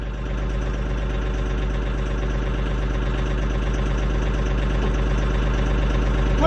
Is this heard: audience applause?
no